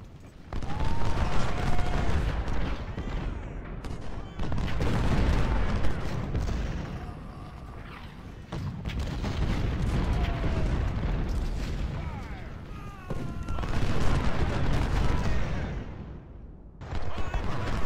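Cannon booms and musket fire crackle through a Civil War battle in the Ultimate General: Civil War strategy game, loud bursts rolling in waves with brief lulls between volleys.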